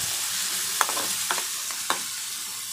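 Cumin, mustard seeds, curry leaves, dried chillies, onions and asafoetida frying in hot oil as a tempering for pappu charu, a steady soft sizzle broken by three sharp stirring scrapes close by.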